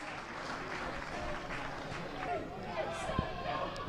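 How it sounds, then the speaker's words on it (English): Scattered applause from a small football crowd at a non-league cup match as a substitute comes on, with crowd murmur, nearby talk and occasional shouts over the clapping. "Warm applause for last season's top scorer as he comes onto the field."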